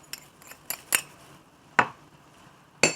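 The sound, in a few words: mixing brown sugar in a bowl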